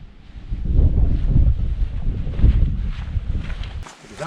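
Wind gusting across open Dartmoor moorland, low rumbling buffets against the microphone that swell and ease in uneven waves, with faint rustling and no clear speech.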